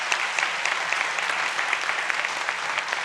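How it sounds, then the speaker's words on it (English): Audience applause fills a city council chamber during an Autism Awareness Month proclamation, a steady, even patter of many hands clapping without pause. "you may applaud the city for this recognition as I present this plaque"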